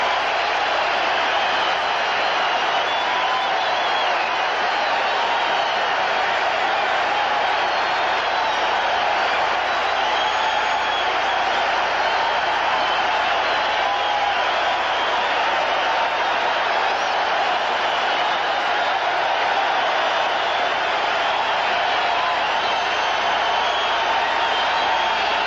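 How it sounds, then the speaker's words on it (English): A 1979 football stadium crowd in a sustained ovation for Darryl Stingley, a dense, even roar of applause and cheering that continues unbroken and far-reaching throughout. "The ovation continues as play"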